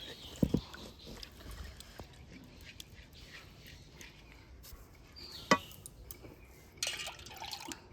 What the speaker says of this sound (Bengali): দিয়ে দিচ্ছি ওই বাটিরই দু বাটি জল